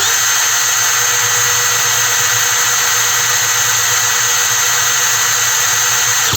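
A Heimerdinger LB180 cordless gyroscopic screwdriver running at maximum speed in first gear, a loud steady high-pitched motor whine held continuously and close up, stopping abruptly at the end.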